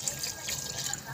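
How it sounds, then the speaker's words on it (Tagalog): Water runs and trickles into a cooking pot of nilagang liempo, a soft, steady pour heard up close at low volume with no speech. "Ilagay natin ang konting tubig siya"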